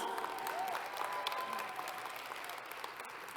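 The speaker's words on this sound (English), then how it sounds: "Give her a round of applause" Audience applause at a salon business forum event, a faint, steady patter of clapping from a crowd heard at a distance, with a few stray tones and murmurs mixed in.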